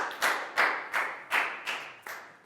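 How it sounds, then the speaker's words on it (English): A small group of schoolchildren claps in a classroom for a classmate, giving five or six distinct, evenly spaced bursts of clapping in unison, fairly close and not loud, with no talking. "a big round of applause for Pat"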